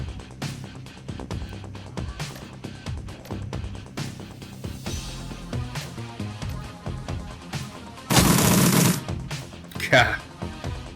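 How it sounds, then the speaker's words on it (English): Assault rifle fire from the video game Shadowrun Returns, heard as a loud, dense burst near the end over a busy backdrop of game music and effects, followed by a second, shorter crack. "Assault rifles was definitely the right way to go."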